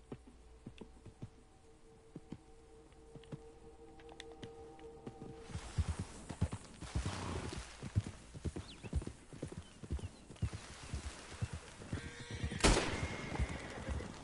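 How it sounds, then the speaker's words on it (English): Horses in the video game Red Dead Redemption clip-clop steadily at close range, their hoofbeats growing louder and busier partway through, with a brief neigh or whinny near the end. "Those are just the horses."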